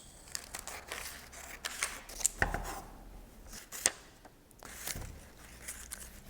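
Scissors snip through paper while a puppet design is cut out, a string of crisp close cuts and rustling crinkles in an irregular rhythm with brief pauses.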